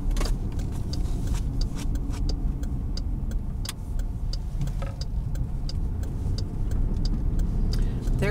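A car driving along a quiet suburban road in the Lone Mountain area of Las Vegas, heard from inside as a steady engine and tyre rumble with small rattles and clicks throughout.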